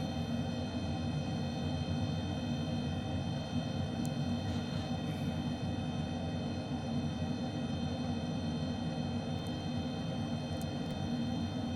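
A HondaJet's engines hold a steady, even drone on approach in Microsoft Flight Simulator 2020, a continuous broadband roar with a faint high whine. It stays level throughout, with no talk.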